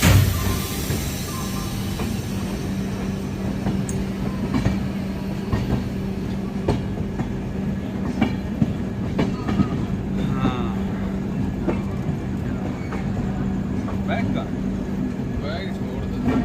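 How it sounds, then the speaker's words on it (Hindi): The Odisha Sampark Kranti train runs into a station on Indian Railways, a steady rumble of rolling wagons with scattered clicks and clatter of wheels over rail joints, recorded from inside the coach. "हमारी ट्रेन अब घुसने ही वाली है"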